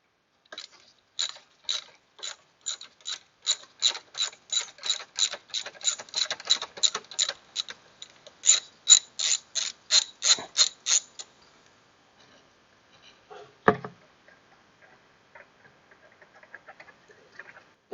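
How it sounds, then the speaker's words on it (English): A hand ratchet on a long extension clicks rapidly in rhythmic bursts as it loosens 8mm hex-head bolts on a Chevy Trailblazer intake manifold, then falls quiet except for a single clunk and faint handling. "I'm going to use a long extension on the ratchet."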